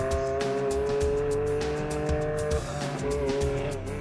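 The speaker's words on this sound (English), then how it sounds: "Actually our first day with a two-seater IndyCar, able to get some rides on the base." A two-seater IndyCar on a military base roars at high speed, a loud, sustained engine drone with steady harmonic whine and tire noise throughout.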